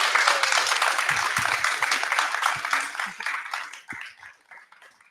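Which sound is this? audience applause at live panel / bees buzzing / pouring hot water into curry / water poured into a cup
audience applause at live panel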